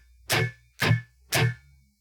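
Three muted percussive guitar chucking strums on an acoustic guitar, evenly spaced about half a second apart, each a sharp full-band slap with a short decay, close and clear with no talk.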